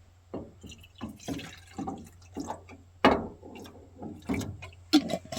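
Copperhead Smoking Gun moonshine poured over ice cubes in a glass, a series of close, irregular splashing trickles and clinks.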